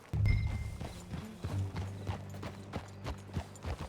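Horse hooves clip-clopping as a rider sets off in the video game Red Dead Redemption 2, a close, rhythmic series of hoof thuds at a steady pace, with a low rumble behind them.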